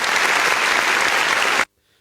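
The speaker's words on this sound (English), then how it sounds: "These a round of applause." Loud, steady round of applause from a studio audience for about a second and a half, then cutting off abruptly into near silence.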